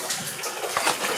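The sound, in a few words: water running down in an underground passage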